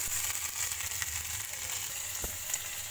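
Onions frying in a couple of spoons of oil over a slow flame for a mutton bone curry, a steady soft sizzle running throughout with no voices.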